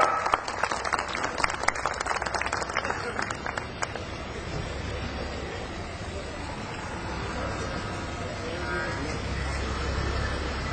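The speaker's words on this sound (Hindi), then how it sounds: "जोरदार तालियां बजाकर के स्वागत करें एक बार।" Crowd applause at an outdoor statue-unveiling gathering, dense clapping strongest over the first few seconds, then thinning into a steady murmur of crowd noise and distant chatter.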